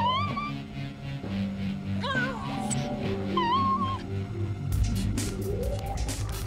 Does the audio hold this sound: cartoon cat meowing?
yes